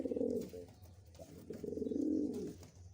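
A male pigeon coos up close in soft, throaty, rolling phrases, two main bursts with a short gap between them.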